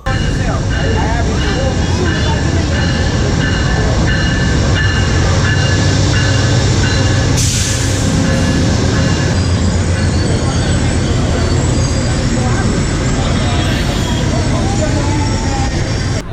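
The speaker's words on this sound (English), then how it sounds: "Should be coming from right around that corner down there." A passenger train rumbles into a station loudly and steadily, with low mechanical droning and a brief high hiss midway, under faint background voices, in Baltimore.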